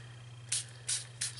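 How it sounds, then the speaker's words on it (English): Three quick hissing spritzes from a spray bottle misting water onto watercolor paper, evenly spaced and close, over a low steady hum. "help it out with a couple more spritz"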